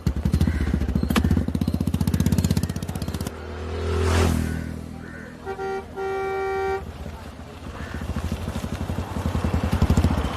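Shared auto rickshaw with its engine pulsing rapidly and rattling up close, interrupted by a passing vehicle's whoosh and a short electronic horn toot, then the sputtering engine returns.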